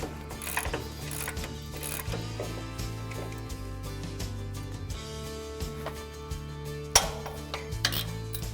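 A ratchet clicks in short runs while taking off the top coilover nuts on a Ford Ranger's suspension, with metallic taps and clinks over steady background music.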